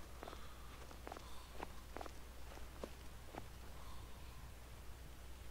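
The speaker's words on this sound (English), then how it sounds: "Can hear footsteps." Soft, irregular footsteps in the video game Skyrim tread at a moderate distance over a low background hum, with no talking.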